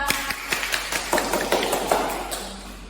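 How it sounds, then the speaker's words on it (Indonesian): A classroom of children clapping for a classmate, with scattered uneven claps and taps landing close by rather than a unified burst, fairly loud and brief. "Beri tepuk tangan untuk Mbak Afra."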